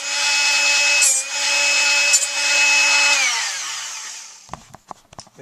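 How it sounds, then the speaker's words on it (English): A Dremel mounted in a drill press whines loudly at a steady high pitch while drilling, then winds down and stops, followed by a few sharp clicks and taps. "over to the drill press"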